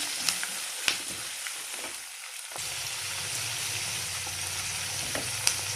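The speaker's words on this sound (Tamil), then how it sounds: "இதை கொஞ்சம் தூள் போட்டு வதக்கணும், அப்போ தான் டக்குன்னு வதங்கும்" Onion and garlic sauté in a clay pot with a bit of spice powder, giving a steady close sizzle punctuated by sharp stirring clicks and scrapes, with a brief quieter lull midway.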